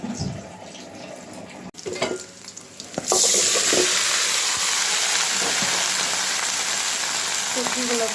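Vegetables tossed into a pan while a curry of eggplant, potato and chapila fish cooks, a few quiet clatters and handling sounds giving way to a sudden loud, steady sizzle that continues to the end.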